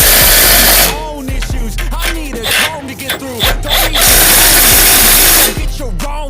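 A Milwaukee power tool setting brake bolts on a vehicle: loud bursts of whirring and rattling that rise and fall in pitch, stopping and starting several times at close range.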